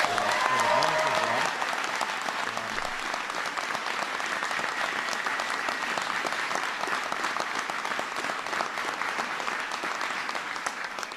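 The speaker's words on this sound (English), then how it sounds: "please give Tolu another round of applause" A sustained round of audience applause at a White House immigration reform speech, with many hands clapping steadily throughout and a faint voice briefly audible at the start.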